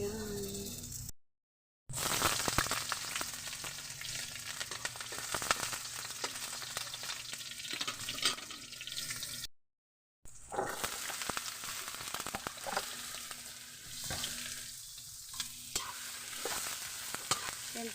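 Sponge gourd (sikwa) stir-fried in a pan, with steady sizzling and repeated scraping and stirring strokes that run close and continuous through the stretch, broken by two brief silent gaps.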